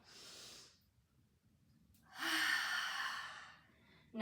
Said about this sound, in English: Nice big exhale out.